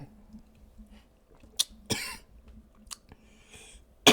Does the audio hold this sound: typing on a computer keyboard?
no